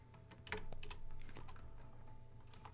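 Keys clatter on a computer keyboard as HTML code is typed into an editor, a quick irregular run of close, crisp clicks over a low steady hum, with no voices.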